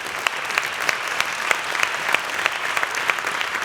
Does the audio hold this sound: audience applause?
yes